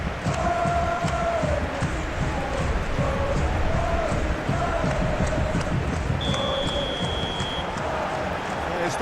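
Crowd atmosphere in the stands of Saitama Stadium in the football game Football Life 2026, with a steady roar of massed voices, wavering chants and whistles sustained throughout.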